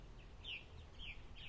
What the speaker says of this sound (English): there's our Purple Martins flying around. Mother, father, babies, chirping, chirping, chirping